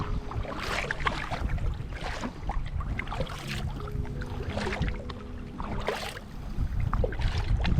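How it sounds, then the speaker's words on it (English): Paddling a double sea kayak against wind and tide, with repeated splashing paddle strokes and water wash under steady wind noise on the microphone, fairly close and continuous. "the winds and tides are not really in our favor today. Both are coming against us. But I'm in a double kayak, so Helaine can do the kayaking"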